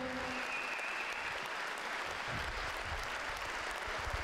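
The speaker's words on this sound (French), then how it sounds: "Vous pouvez faire un tonnerre d'applaudissements pour cette équipe." An audience at a cheque presentation to the cancer league for the "Une rose, un espoir" event applauds a team with sustained, even, full-room clapping that stays constant from start to finish.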